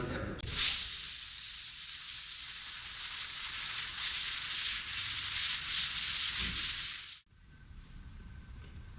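A sander works over a freshly dried coat of finish on a Milestone powder-finish floor, giving a steady, close rubbing hiss for about seven seconds before it abruptly stops.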